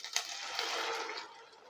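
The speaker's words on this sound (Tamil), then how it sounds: "கொஞ்சம் தான் தண்ணி ஊற்றணும்" Water pours steadily into a pan of fried tomato and liver for under two seconds, a bright splashing hiss that fades out at the end, with no talking.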